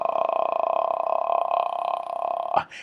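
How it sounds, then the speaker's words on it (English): A demonstration of vocal fry, the crackling lowest register of the human voice: a steady, close, creaky low hum of rapid rattling pulses held for over two seconds, then breaking off abruptly. "The crackling sound is actually the vocal cords making contact."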